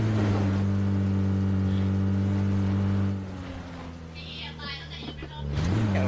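A car engine in PUBG holds a loud, steady drone for the first half, drops to a quieter rumble, then revs back up at the end, with voices talking over it.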